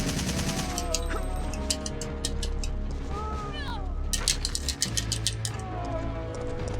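Handgun shots in Resident Evil 3: Nemesis ring out as sharp, separate reports, several spaced singly and a quicker cluster near the end, over a steady game backdrop with a voice talking.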